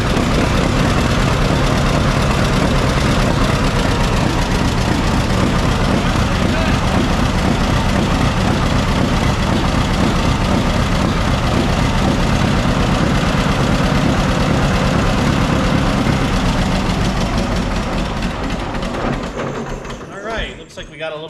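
Old tractor engine running at idle, loud and close, a heavy steady rumble that holds for most of the time before fading and cutting off near the end.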